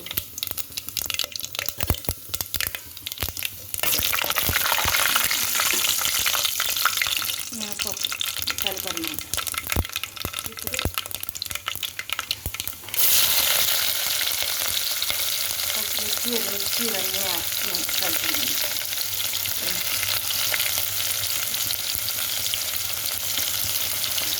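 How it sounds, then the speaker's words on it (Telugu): Continuous loud sizzling of mustard seeds and cumin frying in hot oil, with crackling pops and occasional stirring, steady throughout. "కొంచెం పోపులు వేసుకున్నాను"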